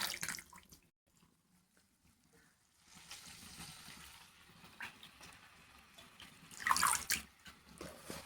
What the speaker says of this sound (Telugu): ఆకుకూరలు కదా మట్టి ఎక్కువనే ఉంటాయి అనమాట, అందుకని నీట్గా అయితే బాగా ఒక 2-3 సార్లు కడుక్కోండి